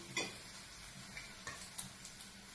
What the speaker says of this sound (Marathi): हे बघा आता मी त्याच्यात जिरं फोडणीला घालते कारण तेल आपलं चांगलं तापलेलं होतं।